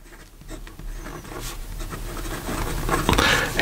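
A fountain pen with a medium steel nib writing on paper, a close, soft scratching and rubbing that grows louder toward the end, with no talking.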